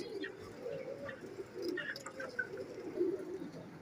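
A male quail (batera) calls with soft, low, repeated cooing notes, close by, alongside a few faint higher chirps.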